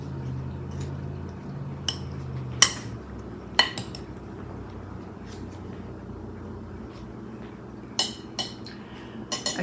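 Low-calorie pasta salad stirred in a bowl, giving scattered clinks of a utensil against dishware at close range over a low background hum, with sharper knocks spread through the stretch and no talk.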